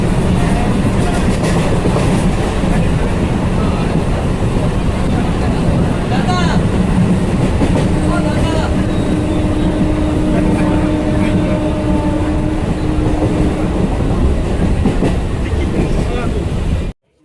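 A train runs on rails, heard loud and close from its open doorway as a continuous roar with rattling wheel clatter for the whole stretch, ending abruptly.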